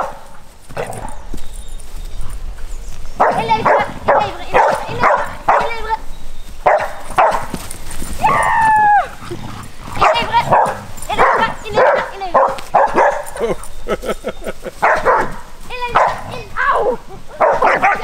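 Several dogs bark and yip in excited bursts during an outdoor ball-catching game, mixed with people talking and cheering throughout.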